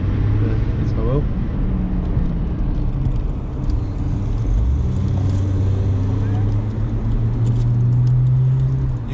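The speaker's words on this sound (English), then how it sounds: "We've got a car coming, and 2 motorbikes." A car and two motorbikes approach on the San Bernardino Pass mountain road, a loud steady engine drone and road rumble building throughout with brief faint voices near the start.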